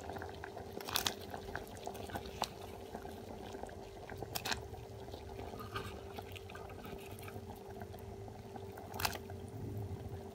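Moghrabieh boils in a pot on a gas stove with faint, steady bubbling and a low hiss, broken by a few soft pops and squishy splashes.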